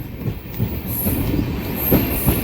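A train pulls into a station on a new route near Rameshwaram, wheels rumbling and clicking over the rails with faint squeals, fairly close and steady, rising slightly toward the end.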